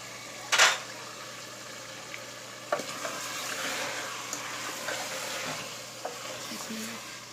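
Chicken being pan-fried for bhuna chicken, giving a steady close sizzle with occasional sharp spatters and stirring scrapes, one loud burst near the start and quieter clinks later.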